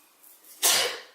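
A single sharp sneeze bursts out close by, a sudden broadband blast that fades over about half a second after a quiet moment.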